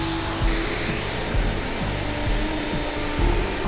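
A Dyson Airwrap hair styler blows a steady, loud rushing stream of air while curling long hair into waves, with faint rhythmic brushing and rubbing of hair against the barrel.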